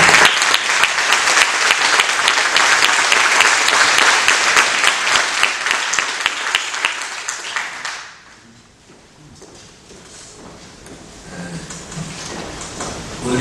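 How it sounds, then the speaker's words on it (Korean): At a university lecture event, a large audience welcomes a university president with big, sustained applause that rolls on strongly for about eight seconds before dying away into quiet room noise and faint shuffling. "큰 박수로 환영드립니다"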